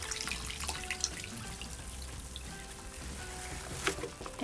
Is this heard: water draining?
yes